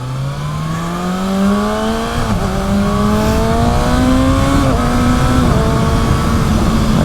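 A Kawasaki Ninja ZX6R motorcycle accelerates hard, its engine note climbing in pitch through several gears with quick shifts between them, loud and close throughout.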